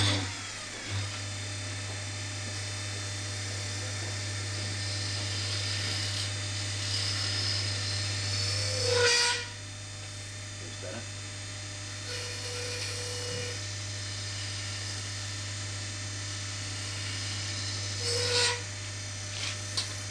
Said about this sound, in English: I'm going to use a round side cutting tool just to get around the corner